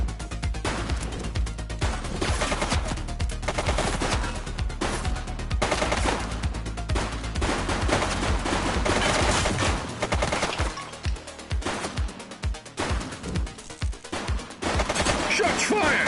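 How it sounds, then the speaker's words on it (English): Sustained gunfire from the police game The Precinct: rapid automatic bursts and dense volleys of shots rattle on almost without pause, with brief gaps and echoing cracks near the end. "Shots fired!"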